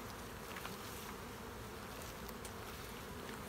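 Dense, steady buzzing of many honey bees swarming around an opened hive while a weak colony is condensed into a nuc, a continuous close hum filling the scene with no talk.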